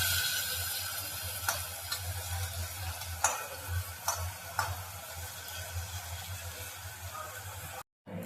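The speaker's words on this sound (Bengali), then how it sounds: "এখানে চিংড়ি মাছগুলো ভাজা হচ্ছে" Prawns frying in a pan, a steady loud sizzle with a few sharp pops and clicks of stirring, continuous for several seconds before cutting off abruptly near the end.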